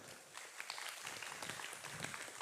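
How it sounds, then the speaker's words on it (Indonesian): Faint audience applause breaks out for an Islamic boarding school during a humorous religious lecture, a steady soft patter of many hands clapping with no voices over it. "Tepuk tangan untuk pesantren."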